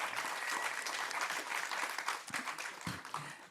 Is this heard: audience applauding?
yes